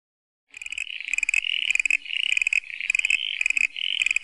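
A voice imitates a frog croak with a rapid string of clipped, throaty bok-bok calls, close and loud, repeated in short bursts for about four seconds.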